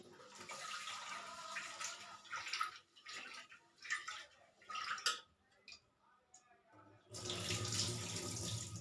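Tap water runs into a pressure cooker pot as split lentils are washed, close gushing bursts broken by short pauses and swirling, with a strong steady flow resuming at the end.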